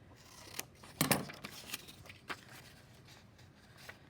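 Scissors cutting paper for a mixed media border, a few quiet snips and rustles close by, with a stronger cut near the start and soft paper handling after.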